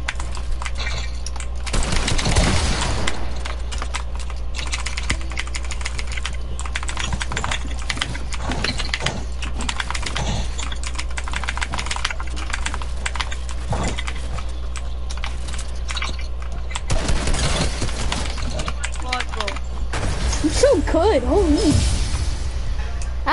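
Rapid gunfire in the video game Fortnite, bursts of clicky shots rattling over a steady hum, with loud excited voices talking over the action and keyboard-like tapping in between.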